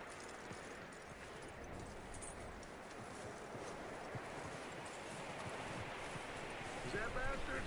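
Horse hooves clip-clopping in Red Dead Redemption 2, a quiet, steady patter of hoofbeats mixed with rustling ground noise, growing slightly louder toward the end.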